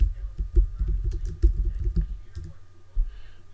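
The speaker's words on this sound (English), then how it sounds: "Type the same name." Rapid clicking of keys on a computer keyboard while typing a name into Logos 9 Bible software, close up, in short bursts with a brief pause near the end.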